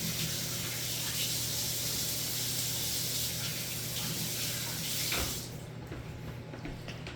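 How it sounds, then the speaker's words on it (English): Water from a running tap splashes steadily into a sink as hands are washed during focaccia pizza preparation, a broad continuous rush that cuts off near the end, leaving quieter room tone. "Now hold tight while I wash my hands super fast."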